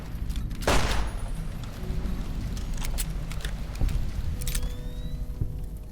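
A loud gunshot from the companion Boone cracks out early in Fallout: New Vegas over a steady game ambience. Fainter shots and clicks follow later.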